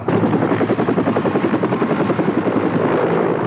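Los Angeles Fire Department helicopter heard close and loud, its rotor chopping in a rapid, regular beat over a low engine drone.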